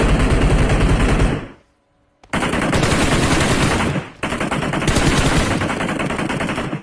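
Rapid automatic gunfire in a first-person shooter, long loud bursts of rattling shots broken by a brief silent gap, no voices over it.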